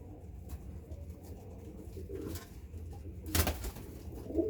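Pigeons coo softly in low, throaty murmurs at a bird market, with a brief flutter of wings partway through and a quiet ambient background.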